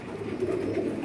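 Pigeons coo in close, soft, repeated rounded calls over a steady low background, the murmuring notes overlapping throughout the second.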